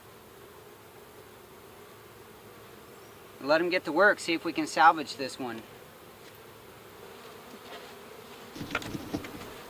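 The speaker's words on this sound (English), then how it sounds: "Now I'm going to shake these bees down in here." Bees in a horizontal hive after being shaken down onto the frames, a low steady hum under a spoken remark, with a few knocks near the end.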